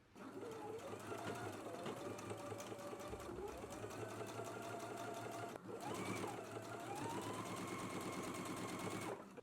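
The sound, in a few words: sewing machine understitching a pocket seam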